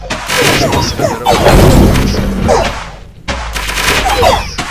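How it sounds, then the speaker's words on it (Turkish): Loud, dense bursts of blasts and crashing impacts in the strategy game 9 Kings as a bomb goes off, continuous and close, with a brief silent gap before the barrage resumes. "Bir bomba yok ediyor."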